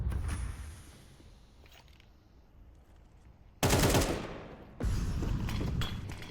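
Gunfire in a Counter-Strike esports match between Northern Lights and Prestige Esports: a sustained automatic burst, then silence, then a second loud, dense volley close up, over faint game ambience.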